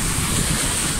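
Mediterranean surf along the Belek coastline after a storm, a dense, continuous roar of waves with wind buffeting the microphone, loud and unbroken.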